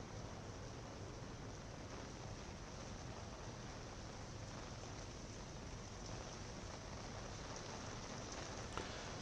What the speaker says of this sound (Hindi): दिल्ली के RK पुरम इलाके में झमाझम बारिश से मौसम बिल्कुल सुहाना हो गया